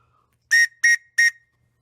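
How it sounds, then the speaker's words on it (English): Prussian police whistle blown three times in quick short blasts, shrill and clear against near silence. "I think this is a Prussian police whistle."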